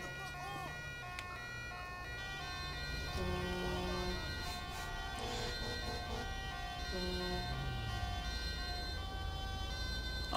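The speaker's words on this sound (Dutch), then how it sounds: "Ambulance gaat met spoed naar het ziekenhuis." Ambulance siren in GTA 5, a steady wailing tone cycling up and down at moderate distance over a background of traffic and engine noise.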